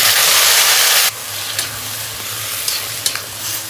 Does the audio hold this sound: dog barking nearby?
no